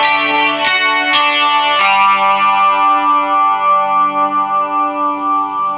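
An electric guitar on the bridge pickup, volume and tone fully up, plays through a Rockman on its clean 2 setting: a few bright chords are struck and then left to ring out with a shimmering chorus, no talking.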